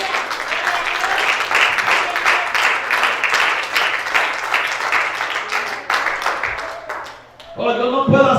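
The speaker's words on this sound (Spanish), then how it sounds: "Dale un fuerte aplauso al Señor." A church congregation breaks into loud, sustained applause that fades near the end before a voice resumes speaking.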